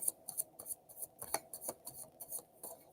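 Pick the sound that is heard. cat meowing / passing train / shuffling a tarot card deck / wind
shuffling a tarot card deck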